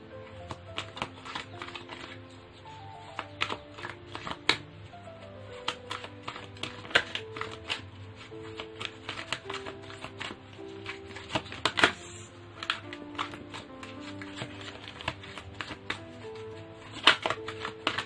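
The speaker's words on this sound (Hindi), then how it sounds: "चलिए देख लेते हैं कि साई बाबा गाइडेंस कार्ड से आपके लिए क्या है सजिटेरियस" Sai Baba guidance cards being shuffled and drawn from a deck: rapid, crisp flicks and riffles repeating close up throughout, over soft, steady background music.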